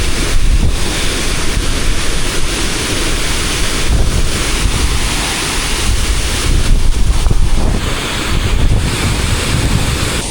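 A loud, steady roar of heavily falling water from the large, three-tiered Ukshi Ranpat waterfall in the rain fills the whole stretch, broadband and continuous with gusts of wind buffeting the microphone.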